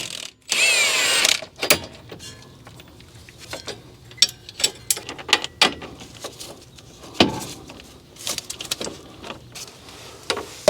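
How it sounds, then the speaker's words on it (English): Impact wrench with a 19mm deep socket loosening a nut on a Mazda 3 front strut, firing a loud burst of hammering at the start, then scattered clicks and short clanks of tools nearby. "I'm just going to hold this steady with a 17mm wrench and see if we can break this loose with the impact"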